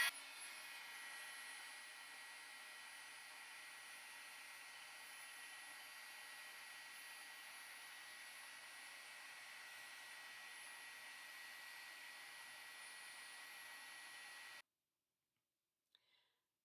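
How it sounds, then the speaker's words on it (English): A heat gun runs steadily for dry embossing on a Halloween papercraft treat box, a constant airy blowing hiss heard alone and close for about fifteen seconds before cutting off into silence. "Turn on my heat gun."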